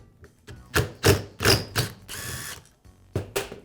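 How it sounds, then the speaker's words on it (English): A screw is turned out of the crankshaft of a Milwaukee reciprocating saw, heard as a close series of ratcheting clicks and short mechanical rasps in uneven bursts. "and then I can remove the screw"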